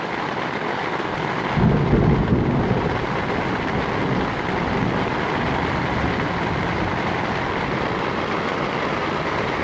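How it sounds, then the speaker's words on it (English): Thunderstorm rolling over a tent in Yellowwood State Forest, recorded on a phone: steady hiss of rain throughout, with one low rumble of thunder swelling near the start and fading into the downpour. "So nice old thunderstorm rolling through here."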